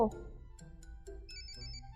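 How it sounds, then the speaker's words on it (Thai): An incoming call ringtone from The Sims 4 video game, a bright electronic trill that starts partway through and repeats over a low background of game music and rain. "สายเข้า"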